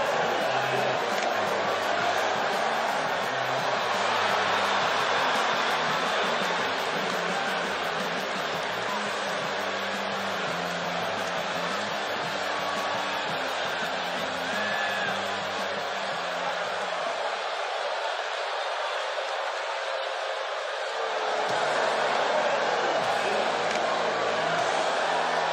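Virtual arena crowd in the WWE 2K18 wrestling video game, a dense, constant roar of cheering before a Becky Lynch versus James Ellsworth match, loud and steady with a brief dip in the low rumble near the end.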